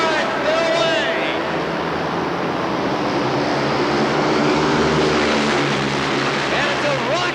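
Longtrack speedway motorcycles roar away from the start at a 1991 New Zealand Longtrack GP race, a loud, continuous engine drone that rises in pitch, with a race commentator talking over it throughout.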